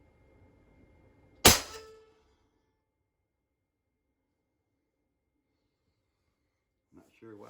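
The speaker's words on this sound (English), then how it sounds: "This is shot number 5." A single sharp report from an AEA Challenger .35 caliber air rifle firing a 102 grain cast pellet, loud and close, decaying quickly into near silence, with faint movement sounds at the end.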